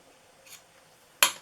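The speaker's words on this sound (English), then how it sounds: "Get my ribbon scissors here, and we're gonna just cut these a little bit shorter." A single crisp snip of ribbon scissors cutting craft ribbon, sharp and close, preceded by a faint rustle of handling in an otherwise quiet room.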